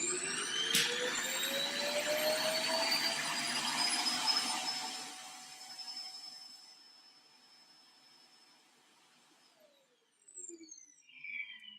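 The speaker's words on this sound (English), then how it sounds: "I hate that vacuum cleaner, by the way." A vacuum cleaner whines at a high pitch, then spins down and fades, with a brief faint whirring starting again near the end.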